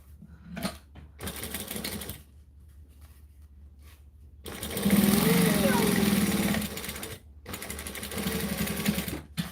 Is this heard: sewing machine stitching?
yes